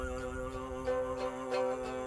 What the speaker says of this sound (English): Throat singing in the steppe